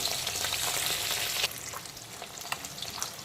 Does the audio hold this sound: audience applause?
no